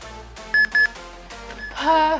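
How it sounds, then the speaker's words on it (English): Workout timer during a dumbbell upper-body session, giving two sharp, loud electronic beeps in quick succession, with music and tones around them. "Let me turn off the timer."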